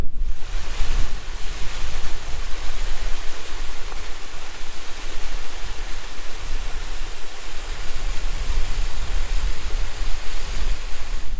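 Loup of Fintry waterfall in Scotland, a steady broadband roar of rushing water mixed with wind buffeting the microphone, constant and fairly loud throughout.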